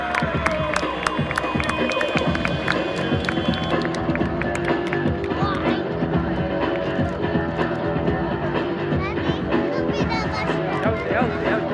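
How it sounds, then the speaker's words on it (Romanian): A crowd cheers and claps for a stunt driver at a show in Baia Mare, with a lively burst of applause, whistles and excited hubbub that continues steadily throughout, and voices chattering in the mix. "Aplauze pentru Alexis Neiger."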